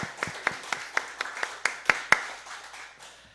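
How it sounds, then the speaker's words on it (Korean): A church congregation at a Korean Sunday communion service claps in unison, about a dozen sharp, rhythmic hand claps that grow louder and then stop, leaving a faint room tail. "우리 하나님께 영광 박수 올려드립니다"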